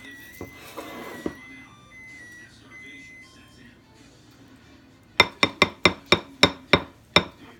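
An oven signals that it has preheated to 350 with a run of about nine sharp, evenly spaced electronic beeps near the end, following quiet kitchen clinks and faint background sound.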